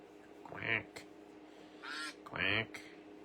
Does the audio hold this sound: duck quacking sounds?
yes